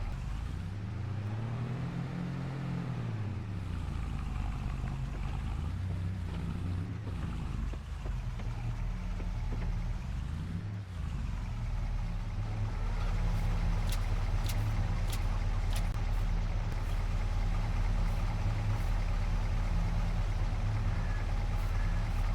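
A vehicle engine driving back to a farm in the Polish countryside, a steady low rumble with rising and falling revs, wind noise on the microphone, and a higher mechanical whine joining in later.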